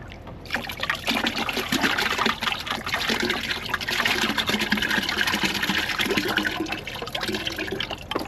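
Water pours into a pond filter bucket in a steady, splashing trickle that runs for several seconds at close range, with no voices.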